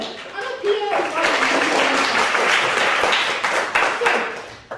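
A comedy-night audience claps during a stand-up compère set, a steady moderate round of clapping heard close, with a brief voice at the start and the clapping easing off toward the end.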